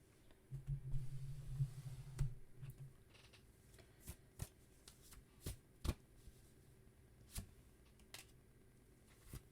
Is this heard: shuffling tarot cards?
yes